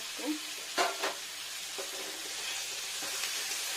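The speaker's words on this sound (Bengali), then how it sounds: "এখন আমি মাছ ভাজাগুলো দিয়ে নেবো মাছ ভাজাগুলো কষাবো" Quiet, steady sizzling of fried katla fish pieces in a pan with cumin paste, with a few soft scraping stirs near the start.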